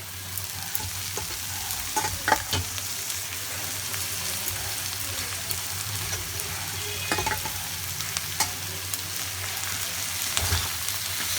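Bathua greens (betho saag) sizzle and fry steadily in a hot pan with cumin, with occasional scraping stir strokes and clinks cutting through the continuous close crackle.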